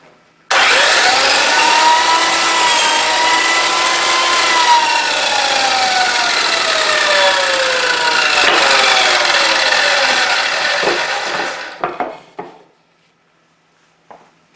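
A power saw cuts through old pallet wood in one long continuous pass of about eleven seconds, a loud steady whine with shifting tones, then spins down and stops.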